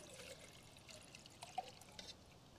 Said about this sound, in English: So I have here 500 mils of water, so I'll put that into here.